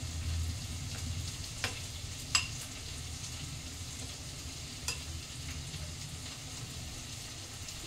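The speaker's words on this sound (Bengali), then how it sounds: "টমেটো আর ক্যাপসিকাম ভাজা ভাজা হচ্ছে" Tomato and capsicum fry in a pan, a steady soft sizzle running throughout with occasional spoon scrapes and clinks as the vegetables are stirred, close and moderately quiet with no talking.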